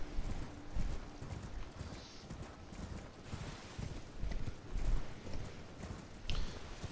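A horse galloping in the video game Elden Ring, rapid rhythmic hoof clip-clops pounding close and fairly loud in uneven bursts, with occasional whooshing game effects layered over.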